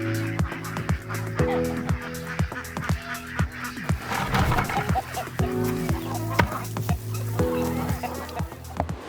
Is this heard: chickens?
yes